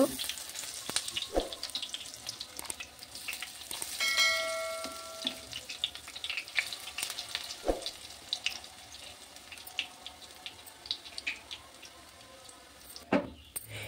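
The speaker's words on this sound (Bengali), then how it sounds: "পেঁয়াজগুলো ভাজার সময় আমি মিডিয়াম আঁচে ভেজে নেব।" Onion fritters (beguni) fry in oil over medium heat, giving a soft, steady sizzle with occasional clicks and pops that stays fairly quiet throughout.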